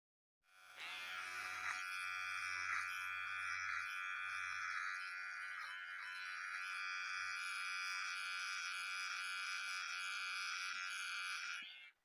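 A VGR V961 beard trimmer runs steadily after switching on, a high buzzing hum that holds evenly for about eleven seconds, quiet and close, then cuts off.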